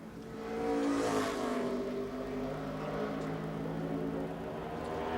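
A NASCAR Busch Series race car roars past on a qualifying lap at Richmond International Raceway, its engine swelling loudly as it nears, then holding a steady, fading drone with no voices.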